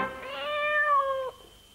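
A single cat meows once in a long, clear, rising-then-steady call lasting over a second, close and alone with no talk.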